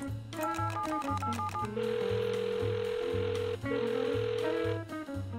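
A telephone in the Rust video game gives a steady dial-style tone over a repeating electronic melody, the sustained tone sounding twice in a loud, continuous stretch.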